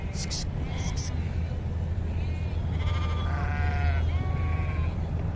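Several goats bleat in short wavering calls over a steady outdoor rumble, close by and moderately loud.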